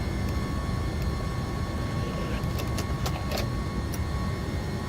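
Loud, steady roaring wind and engine noise inside the cockpit of an MD-11 heavy cargo jet in the X-Plane 11 flight simulator with the cockpit window open, a constant broadband rush with faint scattered clicks, and no voices.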